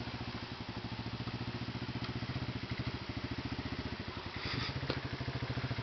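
A motorcycle engine runs steadily close by, its fast regular firing pulses holding an even idle-like chug with a brief rise in level near the end.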